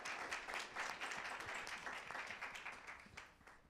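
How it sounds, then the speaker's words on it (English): Audience at a San Francisco Climate Week 2023 panel event applauding a colleague: continuous crowd clapping, moderately distant and fairly quiet, steady before tapering slightly at the close. "Let's give her a round of applause."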